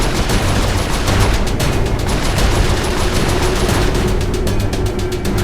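Turret guns in the video game Saints Row IV fire at ships in a continuous, loud, rapid stream of shots over a dense rumbling din, sustained without a break and with no talking.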